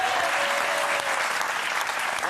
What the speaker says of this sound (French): Donc, applaudissements pour elle